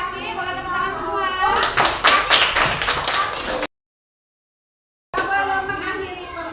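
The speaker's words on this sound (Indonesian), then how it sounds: "Boleh tepuk tangan semua" A class of children claps hands together in a classroom lesson, a dense burst of overlapping claps over children's voices, then a sudden cut to silence before the chatter resumes.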